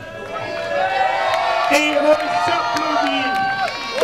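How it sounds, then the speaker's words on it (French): A crowd at a neighbourhood street festival claps and cheers, with whoops and raised voices over a continuous hubbub and people talking throughout. "on s'applaudit."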